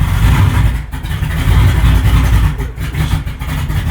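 An old pickup truck's engine runs rich while reversing, a loud, rough, rumbling drone with uneven surges, close and continuous.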